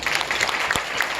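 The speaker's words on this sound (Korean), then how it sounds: "목사님 힘내시라고 박수 한번" A church congregation claps together in a steady, dense burst of applause, close and fairly loud, with no voices over it.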